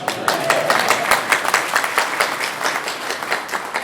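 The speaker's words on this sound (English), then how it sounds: "Round of applause." An audience at a workplace training session applauds, crisp overlapping claps from a roomful of people forming a lively, uneven patter that continues without pause.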